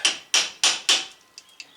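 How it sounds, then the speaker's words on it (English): Four hard metallic hammer blows on a bolt during front brake and rotor work on a 2005 Land Rover LR3, in quick, even succession, followed by two lighter taps, ringing close and loud. "We're going to hit the bolt"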